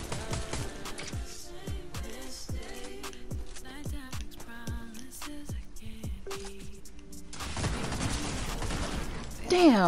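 Gunfire in the Fortnite video game, Solo Zero Build mode, rattles as repeated sharp shot transients throughout, with a denser burst of noise near the end and a person talking over it.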